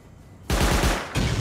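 Rapid bursts of automatic turret gunfire in the game Rust, loud and close, a sharp rattling volley followed by a brief pause and a second burst.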